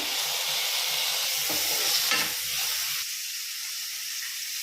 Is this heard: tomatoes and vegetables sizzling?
yes